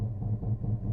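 A 2021 Hyundai i30 N with a DCT gearbox, in N mode with ESP off, holds its engine against the brake with the throttle floored. It gives a steady, close, low droning rumble for about a second, with no talking.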